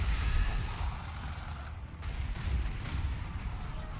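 Artillery firing at fortress walls in Total War Warhammer 2, a rumbling, thudding barrage of low booms that rolls on steadily under a distant battle din.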